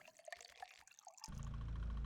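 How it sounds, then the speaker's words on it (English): Gasoline is poured into a tank in the game Fear & Hunger 2: Termina. Light clicks and drips come first, then a loud, steady gushing pour sets in abruptly and keeps going. "Pour gasoline in the tank, yes."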